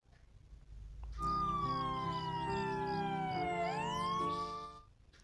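An ambulance siren wails loudly nearby, a single drawn-out tone that slides slowly downward, then rises again and fades away, with no voices heard.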